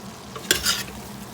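Green beans and bacon fry in a pan with a soft, close sizzle, broken by one quick stirring scrape and a bright clatter partway through before the sizzle settles again.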